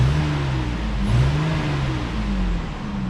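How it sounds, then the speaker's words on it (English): A Ford 3.5 V6 with a replaced mid-pipe muffler revs up and settles back. The loud, close engine drone rises and falls in pitch without a break. "Give it a rev."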